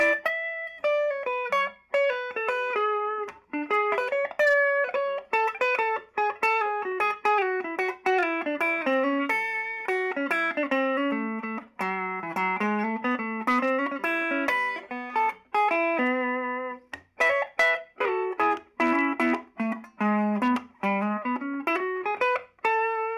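A 1982 Fender Japan Blue Floral reissue Telecaster electric guitar played through effects, a sustained melodic line with bright ringing notes and a processed, slightly distorted tone, alone with no talking.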